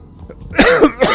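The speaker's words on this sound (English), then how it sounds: "I'm going to be coughing a lot." Two loud, harsh coughs up close from a person with asthma and a cold, after a quiet lead-in, the second cough shorter than the first.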